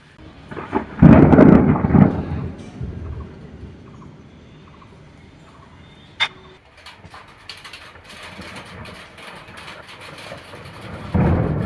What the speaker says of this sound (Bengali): এখন কত জোরে জোরে বাজ পড়ছে দেখো একটু।